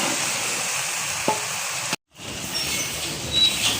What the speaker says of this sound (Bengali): এই যে করলা ভাজি নেড়ে চেড়ে চিংড়ি মাছগুলো দিয়ে মিক্স করে দিচ্ছি